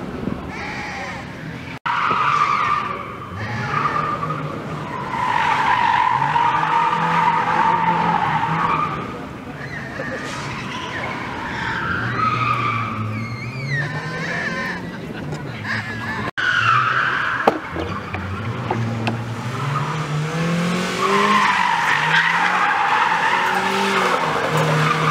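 Cars on an autoslalom course in Navia, Asturias, Spain: squealing, skidding tires over wavering engine drone, sustained and fairly loud with some distant crowd murmur and brief voices.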